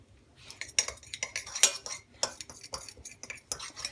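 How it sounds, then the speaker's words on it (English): A spoon stirs oat scone mix with baking powder in a bowl, scraping and clinking against the sides in quick, irregular taps and rattles, close up, with no talking. "Give it a stir."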